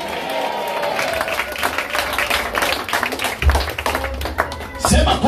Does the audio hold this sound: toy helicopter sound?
no